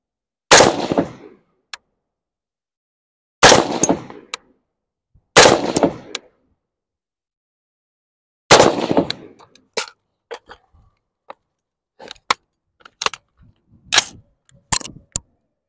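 Rifle shots fired over iron sights at targets on an outdoor range, loud sharp cracks in a spaced series with pauses between groups, followed by fainter clicks and clatter of the action between shots.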